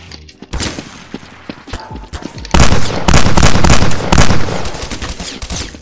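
Gunfire in Garry's Mod DarkRP: a few scattered shots give way to loud, dense automatic bursts and rapid volleys that pound on steadily to the end, close and without talk.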